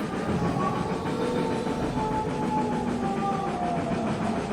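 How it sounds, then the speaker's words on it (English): Locomotive train running on rails, a steady rumbling roll with faint rhythmic clacking and tonal squeal, continuous and fairly close with no voices. "The daring duo caught their breath as the locomotive whisked them away from the station and across the rails over the open city, and Tom Sprocket beheld Copperstein"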